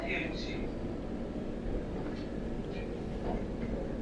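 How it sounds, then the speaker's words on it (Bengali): Vande Bharat Express pulling out of Tatanagar Junction, heard from inside the coach as a steady low rumble with faint rail clatter, continuous and close throughout. "অবশেষে আমাদের টাটানগর জংশন থেকে ট্রেন বেরিয়ে গেল"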